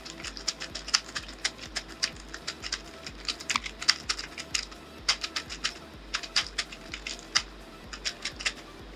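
Typing on a computer keyboard, close and clear, with quick bursts of clicking keystrokes separated by short pauses and the occasional heavier thump of a spacebar. No one speaks.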